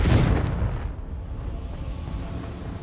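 A Confringo explosion spell in the video game Hogwarts Legacy bursts with a loud, close boom that decays into a low rumbling tail.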